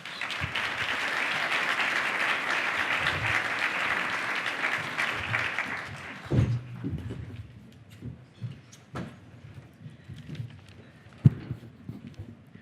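An audience at a welcome dinner applauds as a speaker walks onto the stage, a dense sustained clapping that fades after about six seconds into scattered footsteps and small knocks.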